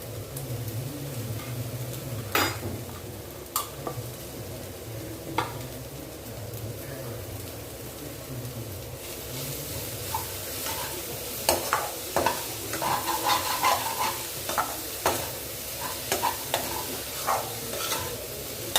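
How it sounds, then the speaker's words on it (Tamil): Carrot and mango with salt sizzle steadily in a hot pan for sago vegetable upma while a utensil stirs and scrapes, with occasional clicks and taps. "அதனால் நம்ம அதோட சேர்த்து வதக்கலாம்"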